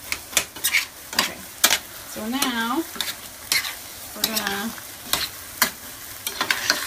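Meat sauce for cauliflower rice is stirred in a sizzling pan, with repeated scraping strokes against the metal and a steady close fry. A person talks over it, and a short whistling tone rises twice.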